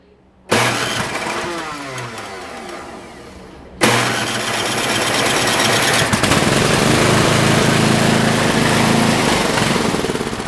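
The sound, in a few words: pull-start engine cranking and starting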